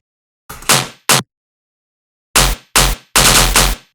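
Tearout machine gun bass synth with a fat sub layer, pedal and saturation fires in short, loud stuttering bursts: two quick hits, a pause, then three heavier chopped blasts, rapid-fire and aggressive.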